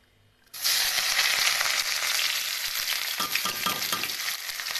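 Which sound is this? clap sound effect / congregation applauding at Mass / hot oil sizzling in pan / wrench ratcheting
hot oil sizzling in pan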